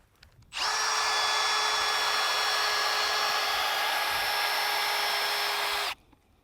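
A power drill whirs loudly and steadily for about five seconds, boring a hay probe into a hay bale, then cuts off abruptly.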